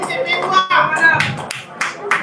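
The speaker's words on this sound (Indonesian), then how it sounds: "Tepuk tangan Bu Nora, Pak Azam." Scattered clapping breaks out in short bursts while a voice talks over it.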